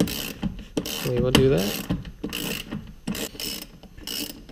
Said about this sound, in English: I can't talk very well and ratchet at the same time